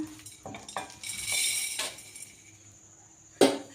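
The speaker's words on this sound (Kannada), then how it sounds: "ಎಲ್ಲನೂ ಈ ಪ್ಯಾನ್ ಒಳಗಡೆ ಹಾಕ್ಕೊಂಡು ನಿಧಾನಕ್ಕೆ ತಿರುಗಿಸ್ತಾ ಲೋ ಫ್ಲೇಮ್ನಲ್ಲಿ ಒಂದು 15 ಮಿನಿಟ್ಸ್ ಆದರೂ ಹುರಿತಾ ಬರಬೇಕು" Dry rice and lentils being stirred in a pan over a low flame for homemade baby cereal, giving scattered clinks and scrapes of the spoon against the metal with a louder knock near the end, no voices.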